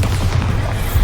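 A Bombarda blasting spell explodes in the video game Hogwarts Legacy, giving one short, heavy, low boom that rumbles for about a second with no voices.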